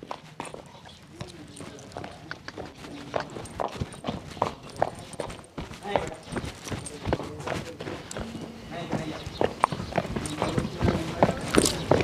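A mare's hooves clip-clop on the ground at a home horse-breeding yard. Steady walking steps run close by for the whole stretch, with voices talking now and then over them.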